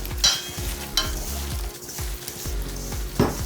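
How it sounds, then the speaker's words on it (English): Hand-mixing a Salisbury steak meat mixture with eggs, giving repeated wet squishing and slapping pulses about every three-quarters of a second, close and fairly loud, with no talking. "Now we're just gonna mix by hand."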